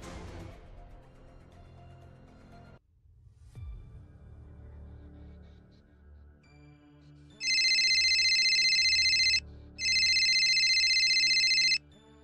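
A telephone rings at night in a quiet room, two loud electronic ring bursts after low background music and a soft thud, each ring lasting about two seconds with a short pause between.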